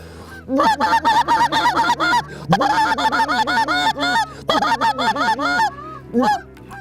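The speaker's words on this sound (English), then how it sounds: "we start wailing on them as much as we can do" A dense chorus of goose calls blown by hunters, loud and continuous, many calls overlapping in rapid bursts with brief pauses between volleys.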